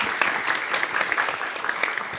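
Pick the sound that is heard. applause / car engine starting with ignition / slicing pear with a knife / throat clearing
applause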